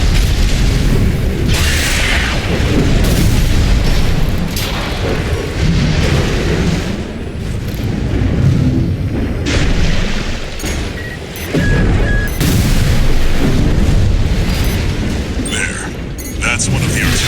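Artillery emplacements fire in Armored Core VI combat, with heavy repeated booms and mechanical clatter continuing loudly for the whole stretch amid dense battle noise.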